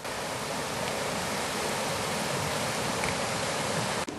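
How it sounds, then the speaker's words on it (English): A river waterfall in the Yorkshire Dales pours with a steady, dense rushing roar that stays even and close throughout, with no voices. "There's like a bit of a waterfall in front of us."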